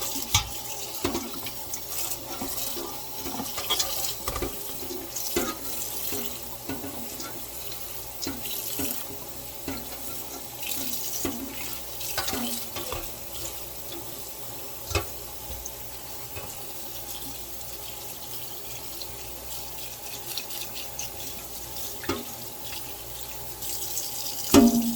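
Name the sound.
tap water running while rinsing dandelions in a sink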